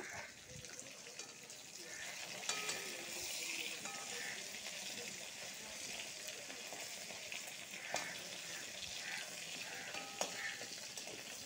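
Fish sizzles steadily in hot oil in a pan, a continuous bright crackle with a few clinks and shifts as the pieces are turned.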